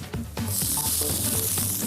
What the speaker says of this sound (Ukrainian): Фенхель смажимо.